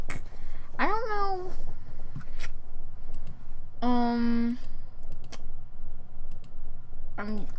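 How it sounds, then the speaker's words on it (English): Rapid clicking on a computer keyboard and mouse during Minecraft play, a steady close patter that runs throughout while a young voice talks over it in short bursts. "I'm clicking a lot."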